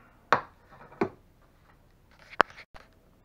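Cabbage goes into an Instant Pot for cabbage soup, making a few separate dull knocks and thumps spaced over about three seconds, close and fairly quiet, with no talk.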